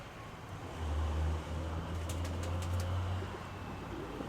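Pigeons coo in low, drawn-out tones close by, with a brief flutter of wings and faint rustling amid quiet outdoor ambience.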